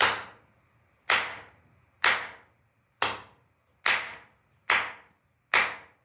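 Seven sharp, separate hand claps ring out about one second apart, each loud and crisp with a short decaying tail, used to switch the color of an RGB LED driven by a Raspberry Pi Pico with a microphone.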